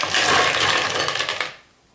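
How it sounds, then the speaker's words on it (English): Ice cubes are dropped into a bowl of eggs, making a close, busy clatter of clinking and rattling that lasts about a second and a half and then stops abruptly. "we'll add ice"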